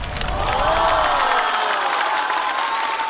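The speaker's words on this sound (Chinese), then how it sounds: "掌声送给林琛" Stand-up comedy audience applauding and cheering for a comedian, a dense, loud wash of clapping and crowd noise with a rising whoop-like tone, sustained across the whole moment before easing slightly.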